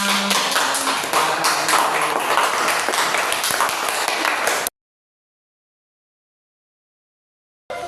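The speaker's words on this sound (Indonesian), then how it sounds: "Tepuk tangan" A classroom of students claps for group 3 after their presentation. The applause is dense and lively for several seconds, then it cuts off abruptly into silence.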